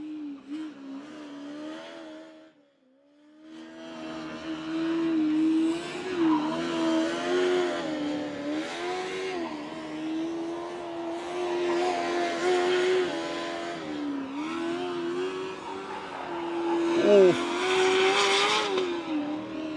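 A Formula Student race car runs on a track, its engine note rising and falling as it passes nearby and accelerates away, with a short quiet gap early and a louder surge near the end.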